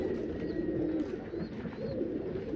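Pigeons, including a cream-coloured tumbler type, coo and call in a loft as a steady murmur of soft low calls, with faint higher chirps over a continuous background of birds.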